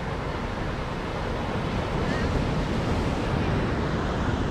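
Sea waves wash steadily at Copacabana beach in Rio de Janeiro, a broad continuous roar of surf with wind noise on the microphone.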